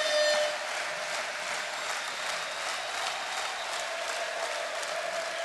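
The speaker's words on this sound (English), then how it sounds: "everybody in the arena standing up now, giving a standing ovation to Derek Sharp." Steady applause from an arena crowd on its feet for a standing ovation at a basketball championship game, a dense continuous clatter of clapping that stays even and fairly distant throughout.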